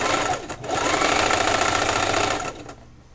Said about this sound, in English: I'm going to start by stitching 1 inch all around to make the elastic casing.